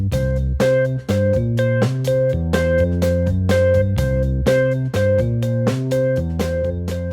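A tune played on keys, with steady quarter notes in the right hand over a repeating ostinato bass in the left, close and clear, with a brief pause near the start.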